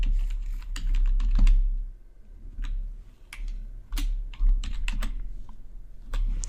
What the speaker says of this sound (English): So I'm going to type in strawberry.